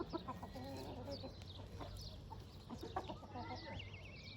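Several chickens cluck in a busy outdoor yard, with overlapping calls and occasional chirps, while voices murmur faintly in the background.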